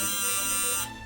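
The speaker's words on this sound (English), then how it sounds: "This is a buzzer. Used to be used in lieu of a doorbell years ago." An old electromagnetic doorbell-style buzzer rated for 6 volts runs on 3 volts, giving a steady, harsh, loud buzz rich in overtones for about a second before cutting off.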